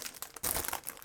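Thin plastic protective bag around a small card binder crinkles close by during an unboxing, with a brief loud burst of rustling in the middle followed by continued crinkling.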